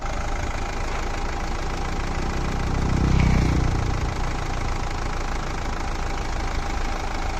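A car engine idles at normal RPM during a carbon-cleaning treatment for black smoke, a steady loud mechanical drone with a slight rise in the middle, heard alone without talk.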